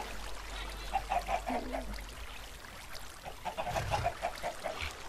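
Chickens on a Minecraft chicken farm give repeated short clucking calls in two bursts, moderately close, over a steady low background hum.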